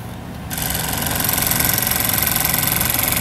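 A Ford 7.3 IDI diesel engine fires for its first start on a new injection pump, catching after a brief quiet moment and then running in a loud, steady, rattling clatter that stays even to the end.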